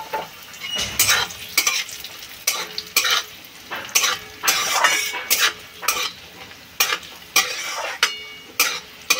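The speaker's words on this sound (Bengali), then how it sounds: "দু চামচ ঘি দিয়ে দিলাম। কাজু কিশমিশটা ভেজে নেব।" Cashews and raisins frying in two spoons of ghee for onion pulao, a sizzling bed under a steady series of quick, loud spatula scrapes and clinks against the pan, with no voices.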